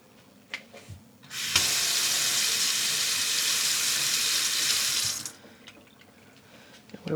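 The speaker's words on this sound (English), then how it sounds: "We will be adding some more water into that measuring cup" Water from a tap streams into a measuring cup for home yarn dyeing in one steady, loud pour lasting about four seconds. Quiet clinks and handling come before and after it.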